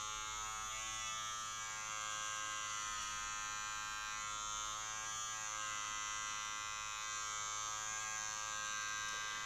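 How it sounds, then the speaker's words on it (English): An electric hair clipper buzzing steadily while cutting hair, a constant bright whine with a low hum beneath, close and unbroken with no talking. "Just an even pressure on the clipper."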